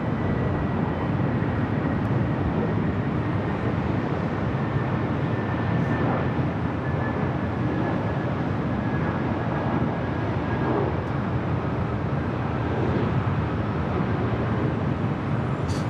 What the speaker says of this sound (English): Beautiful takeoff with that 777